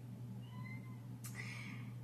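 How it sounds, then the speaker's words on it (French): A house cat gives a soft, brief meow toward the end, faint and somewhat distant beneath a steady low hum in a quiet indoor room. "Et c'est mon chat, je sais pas si vous l'entendez."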